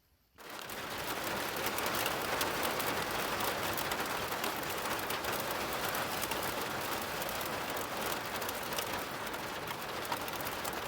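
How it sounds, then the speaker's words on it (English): Hail or sleet pelting a campsite, a dense, continuous hiss of small icy impacts that starts abruptly after a moment of quiet and holds steady, close and fairly loud, with no talk. "Or was that a hailstorm that we just had?"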